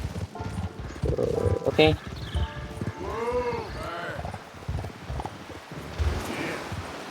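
Hooves of a red horse clip-clop steadily in the Red Dead Redemption 2 open world, under someone talking almost throughout, with a brief whinny-like tone partway through.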